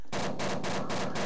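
Rapid automatic fire from the SC3 Brolo gun in Garry's Mod, a loud, steady burst of close shots running for the whole second with no break.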